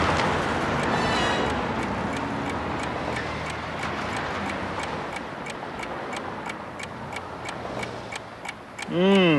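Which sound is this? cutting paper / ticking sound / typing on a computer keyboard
ticking sound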